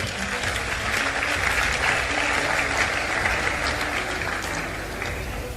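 A large audience claps steadily at an entrepreneurship and leadership talk, a dense, even wash of applause that holds at full strength for several seconds and fades only slightly at the end.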